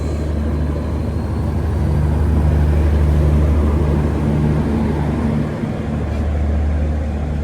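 The AP Express, running from Visakhapatnam to New Delhi, pulls in at platform 8 of a station with a loud, steady, low engine rumble and droning hum that swells slightly as it approaches.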